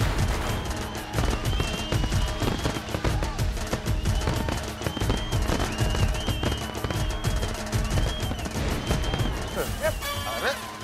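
Firecrackers bursting at a wedding celebration, a rapid, dense barrage of loud cracks and pops running continuously over festive music.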